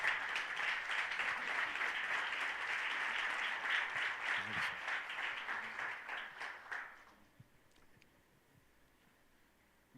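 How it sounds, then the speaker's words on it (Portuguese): A church congregation applauds together in a sustained, dense round of clapping that fades and stops about two thirds of the way through, leaving a quiet room with faint stray sounds. "Podemos aplaudir Jesus pela vida dele?"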